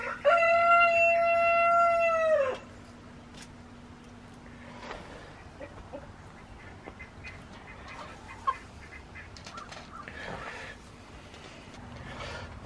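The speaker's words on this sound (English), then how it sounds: "I wonder if that broody hen's back in a nest box" A broody hen in a farmyard nest box gives a loud, sustained squawking cry for about two seconds, then quieter clucks and rustling follow against a steady background hum.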